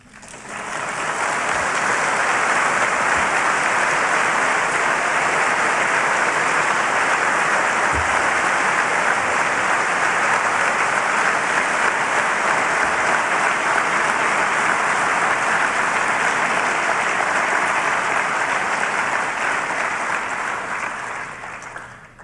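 Audience applause at a book talk by a political author, steady and loud throughout, a dense sustained clapping from a large crowd with no voices over it.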